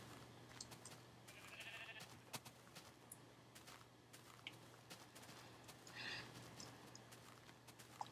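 Sheep bleating in a Minecraft-like video game: a few faint, scattered bleats over a quiet, steady background hum, with no talking.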